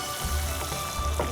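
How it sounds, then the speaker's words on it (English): Pomfret fish frying in hot oil in a pan, giving a steady soft sizzle with crackling bursts and low bubbling that swells and eases throughout, with no voices. "So I'm just frying it like this"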